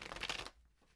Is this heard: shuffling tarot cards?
yes